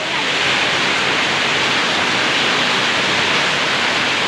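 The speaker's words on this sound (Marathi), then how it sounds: "इथे जोरशात पाऊस पडतोय." Heavy rain pours down hard enough that water is starting to pool, a loud, dense, steady hiss that fills the whole stretch without a break and with no voices.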